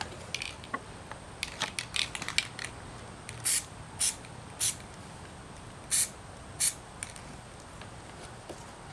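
An aerosol spray paint can lays a light coat on a Dodge Charger fog light: several short, faint hissing bursts in a quiet room, spaced a second or so apart, with soft handling clicks between them.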